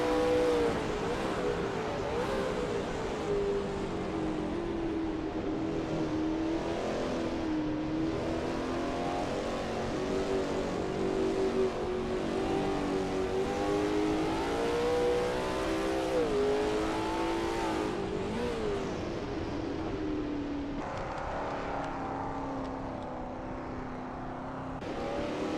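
A Lola T70 MkII Spyder race car in a racing game at Spa roars continuously through Eau Rouge, its engine note rising and falling with gear changes and throttle, loud and close throughout, with no talk.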